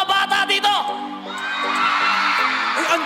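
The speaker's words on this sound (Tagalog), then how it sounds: "sumigaw lahat ng mga bata dito" A live audience full of children at a comedy performance shouts and whoops loudly, with excited cries rising into a sustained crowd roar while a performer speaks over the start.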